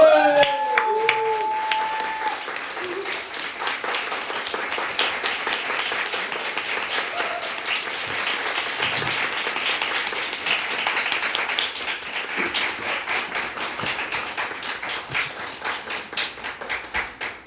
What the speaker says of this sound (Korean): 제가 더 큰 박수를 받은 것 같아요.